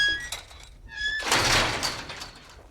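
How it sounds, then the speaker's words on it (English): A zombie bangs on a compound in the 7 Days to Die video game. Tonal chimes give way to a heavy thudding crash with a rough, breaking rumble that tails off over about a second. "now we gotta deal with the zombie that's banging on the compound"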